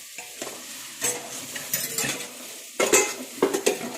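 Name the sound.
stirring spices in a pot for mutton biryani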